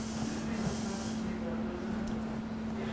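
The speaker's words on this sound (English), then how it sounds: "Oh, the sea salt spray?" Sea salt spray mists out in a steady hiss during a barbershop skin fade, continuous and close with a low electrical hum underneath.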